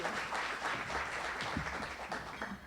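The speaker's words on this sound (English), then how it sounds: "why don't we give him one more round of applause as he kicks off our program" Crowd applause for the opening speaker at the State of the Walnut Creek Chamber 2025 event, a steady wash of clapping from a large audience that stays fairly even throughout, heard at a moderate level without talk on top.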